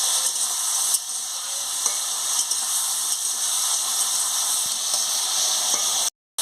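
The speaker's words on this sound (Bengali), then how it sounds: "আমি হলুদটা দিয়ে দিচ্ছি, দিয়ে ভালো করে কষে নিচ্ছি আনাজটাকে।" Vegetables (ridge gourd) fry with turmeric in a pan: a loud, continuous hissing sizzle with occasional stirring scrapes, ending abruptly in silence.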